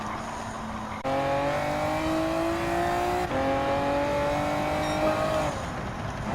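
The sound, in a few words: Honda NSX Type R '02 race car engine, Gran Turismo 7 video game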